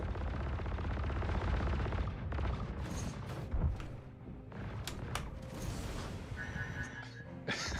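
Guns fire at a caterpillar in a video game, a dense, continuous burst of rapid automatic shots and booming impacts that rattles on for several seconds before thinning out.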